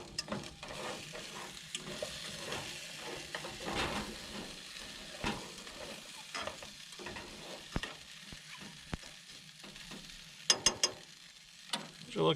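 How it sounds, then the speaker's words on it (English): Potatoes frying in a heated pan give a quiet, steady sizzle, broken by occasional scraping and stirring clicks, with no talk over it. "we're going to let it heat up and start cooking us some potatoes"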